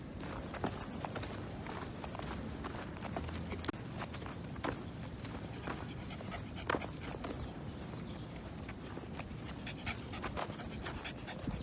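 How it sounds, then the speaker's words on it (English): An Australian Shepherd dog out on a walk, panting steadily with footsteps and light scuffling throughout, close and fairly quiet against a constant outdoor background. "There's an Australian Shepherd over here."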